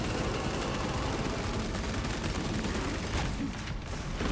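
Heavy Bolter fire in the video game Space Marine 2, a dense, continuous barrage of loud gunfire with rapid overlapping shots that stay steady before thinning slightly near the end.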